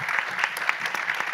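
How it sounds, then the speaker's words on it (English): Audience applause for panelists at a climate session of an Asian Development Bank annual meeting: steady, close, sustained clapping from a seated crowd filling the whole moment. "I would like to ask you to give a big round of applause for our esteemed panelists"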